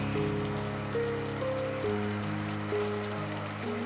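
Steady bubbling and fizzing of sugar syrup boiling in a pan, continuous and close, with a faint tonal hum running underneath.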